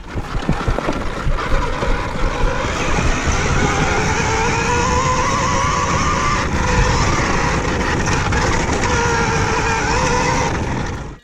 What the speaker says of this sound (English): After the factory, we tested out some of the new electric motocross bikes.